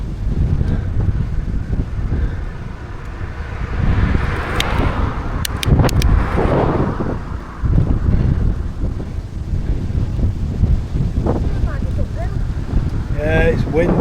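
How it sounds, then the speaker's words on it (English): Steady wind buffets the microphone throughout a cycling ride past cemeteries near Richebourg, a dense roaring rush with brief gusts and voices talking over it. "Yeah, it's wind, isn't it?"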